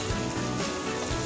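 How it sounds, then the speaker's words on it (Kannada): Soaked basmati rice drops into a hot pan of oil with mint and vegetables for a coconut milk pulao, giving a loud, steady sizzle and frying crackle throughout. "ಇದು ನೆನೆಸಿರೋ ಬಾಸ್ಮತಿ ಅಕ್ಕಿ ಹಾಕೊಳ್ತಾ ಇದ್ದೀನಿ"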